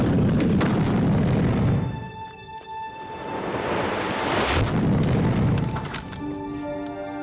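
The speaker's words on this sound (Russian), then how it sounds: "Граната!" Grenade explosion in a combat scene: a loud, close boom with a long rumbling tail, followed by a second blast a few seconds later that also fades into ringing.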